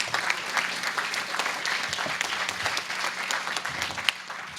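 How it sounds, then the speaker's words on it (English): Crowd applause at an outdoor Metrorail station groundbreaking ceremony, a steady wash of many hands clapping at moderate distance, fairly even throughout with a faint low hum beneath. "So please just give a round of applause for the number of people involved."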